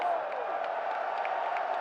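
Evo 2024 tournament crowd at a Granblue Fantasy Versus: Rising losers quarterfinal, cheering steadily for the player Artorias as a sustained, even roar of many voices.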